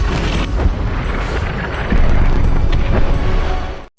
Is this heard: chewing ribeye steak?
no